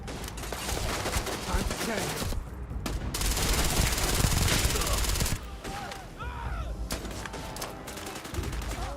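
Sustained automatic gunfire from Starfield combat, dense rapid bursts nearly continuous across the stretch, with short gaps and sharper single shots near the end.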